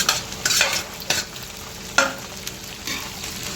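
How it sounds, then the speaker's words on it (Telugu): Cut okra being tossed into hot oil with curry leaves for a village-style Andhra bendakaya fry, crackling and sizzling with a few louder bursts as the pieces hit the pan and get stirred, no talking. "ఇలా కోసి ఉంచిన బెండకాయలు వేసేసుకోవాలి. వేపుడికి బెండకాయలు వేసేసుకుని"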